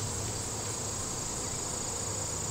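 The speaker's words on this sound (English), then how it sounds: "It's tough to see probably because there's so many bees on the frame." Honey bees crowd a hive frame, their dense, steady buzz holding at an even level throughout with no pauses or voices.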